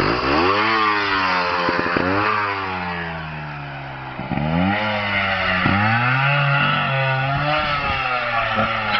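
A motorbike on a small hill, its engine revving hard in repeated rising and falling sweeps, loud and close with brief dips between revs as it strains to climb.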